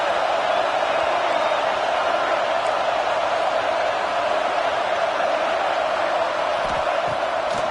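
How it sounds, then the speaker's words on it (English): Stadium crowd in College Football 26 roaring for the defense on a big third down, a dense, loud, sustained wall of cheering noise that stays steady throughout without pause. "Big third down as the crowd gets behind this defense."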